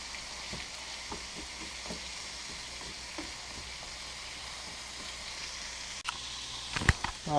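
Breakfast food sizzling and frying in a pan while it is stirred, a steady soft crackle with faint scrapes, ending in a few louder clatters.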